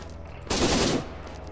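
Full-auto burst from an M14 rifle chambered in 7.62 in the video game Arma 3, a loud continuous rattle of rapid shots lasting about half a second and then cutting off, with no talk over it.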